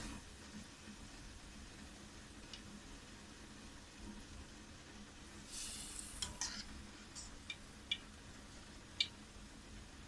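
Gulab jamun fry in hot oil as a faint, steady sizzle, with a few light ticks and clinks from the pan toward the end.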